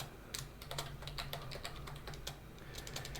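Quick bursts of keystrokes on a computer keyboard while a user password is entered, crisp close clicks in uneven runs with short pauses and no talking.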